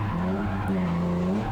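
Two drift cars run in tandem on a race track, their tires squealing in a sustained, wavering screech over a steady engine drone, heard faint and from a distance.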